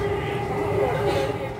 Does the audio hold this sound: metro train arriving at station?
yes